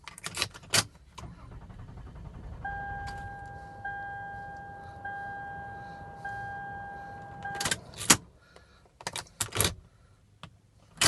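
Key-turned start of a 2007 Toyota Avalon: sharp clicks and jangles up front, a sustained steady warning-chime tone, then a loud burst as the engine cranks and catches near the end, followed by further clicks and idle.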